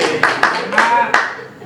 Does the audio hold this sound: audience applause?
yes